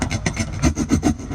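A human voice imitates coconut being grated in a kitchen: fast, rhythmic rasping strokes, loud and close, repeated steadily for just over a second.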